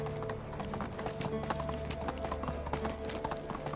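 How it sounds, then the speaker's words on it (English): Horse hooves clip-clopping steadily at a walking rhythm while riding in the medieval life-sim game Medieval Dynasty, close and continuous with no talking. "I can't help but think of that song when I'm riding this horse"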